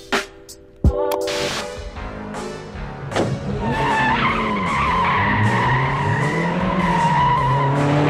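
A Ferrari Daytona Spider replica in a Miami Vice scene skids with tire squeal over a steady engine drone, starting with a sharp thud and then holding loud, near and continuous for about eight seconds.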